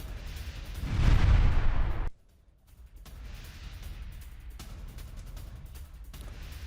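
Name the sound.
IDF air strike explosions in southern Lebanon, news footage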